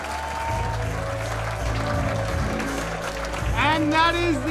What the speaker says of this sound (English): One big round of applause for everybody you've seen and the winners.